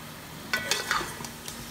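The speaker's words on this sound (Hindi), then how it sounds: "तेज़ आंच पे फ्राई करेंगे जब तक कि चिकन गोल्डन नहीं हो जाती" Chicken thigh and leg pieces with ginger garlic paste fry over high heat, a quiet sizzle broken by several sharp stirring clinks and scrapes of a spoon against the pot, close by, no voices.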